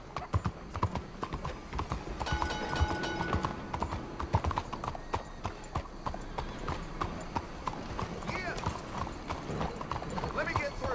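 Hooves clip-clop steadily from a horse in the Western video game Red Dead Redemption 2, a continuous rhythmic trot close by, with someone talking over it and a brief whinny near the end.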